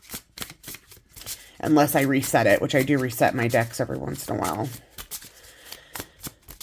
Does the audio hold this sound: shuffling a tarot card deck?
yes